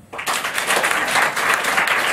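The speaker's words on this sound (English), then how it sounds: "Clap your hands if you've heard of Hulk Hogan." An audience claps together at a wrestling chat show, a dense burst of applause that starts abruptly and holds steady and loud throughout.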